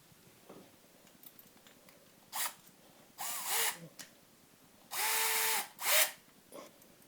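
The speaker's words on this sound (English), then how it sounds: "So we take a drill for concrete" Short bursts of a concrete drill whirring into a plastered wall, several separate runs of a second or so with quiet pauses between, fairly close.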